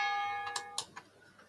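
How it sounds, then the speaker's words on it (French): Bells ring out in a French setting, a fading resonant peal of sustained tones followed by a few sharper separate strikes, moderately loud and alone with no talk. "j'arrive pas à me concentrer quand il y a les cloches"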